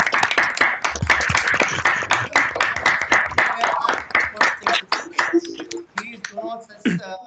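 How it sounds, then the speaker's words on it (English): Applause from online orientation participants, a dense patter of clapping that gradually thins and breaks up into scattered claps toward the end. "let's have a round of applause for all of you who've joined Amity"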